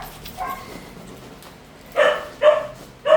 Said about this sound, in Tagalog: ingay naman ang aso namin.